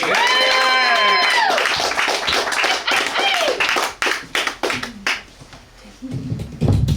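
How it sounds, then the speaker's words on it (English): Clapping and cheering from a small comedy crowd at a skate shop show, starting with whoops and shouts over the applause, then thinning into scattered claps that fade as a voice begins. "Big round of applause, guys, for the hilarious Jack Slattery!"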